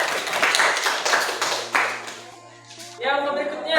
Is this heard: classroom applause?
yes